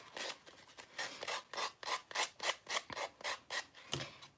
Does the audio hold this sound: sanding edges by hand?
yes